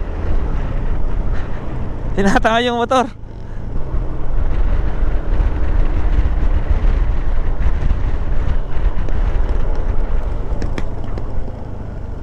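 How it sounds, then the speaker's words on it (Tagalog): Strong cold wind buffets the microphone while riding a motorbike along a scenic provincial road, a steady loud roar of rushing air and engine rumble throughout, with a brief voice speaking near the start. "Oh, ang lamig. Lakas ng hangin, grabe."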